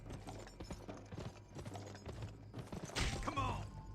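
Horse hooves galloping in the video game GUN on the original Xbox, a quick rhythmic clip-clop of repeated thuds, ending in a brief louder burst of noise and a short whinny-like tone.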